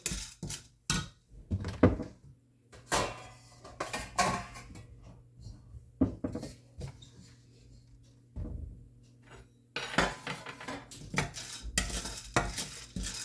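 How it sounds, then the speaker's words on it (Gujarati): Sliced bitter gourd roasting in a pan until brown for karela chutney, stirred with a spoon: irregular bursts of scraping and clattering against the pan over a soft sizzle, with short quiet gaps between strokes. "બ્રાઉન કલરની થાય ત્યાં સુધી આપણે શેકવા દેવાની છે"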